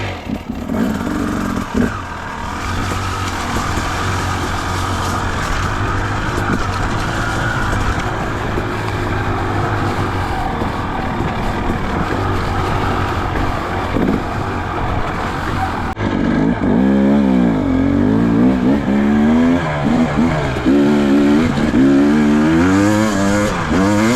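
A 2017 KTM 300 dirt bike ridden on trails, its two-stroke engine droning loudly and steadily, then rising into strong revving bursts near the end.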